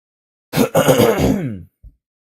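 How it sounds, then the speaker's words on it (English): A single close, throaty clearing sound lasting about a second, rough and voiced, followed by a brief soft catch of breath; no talking. "Sorry, I keep clearing my throat."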